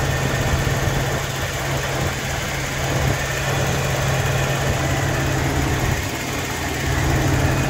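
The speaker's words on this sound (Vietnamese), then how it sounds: "Giờ máy em ru rồi. Máy khá êm." A Zace GL motorcycle engine idles smoothly and steadily, a close, even mechanical hum that holds without revving for several seconds, with no talking.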